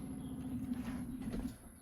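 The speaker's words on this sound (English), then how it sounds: "That noise is the motor pumping water through the system." A small water pump motor in a Fleetwood Terry RV runs with a steady, low electric hum as water is drawn through the plumbing, faint and continuous throughout.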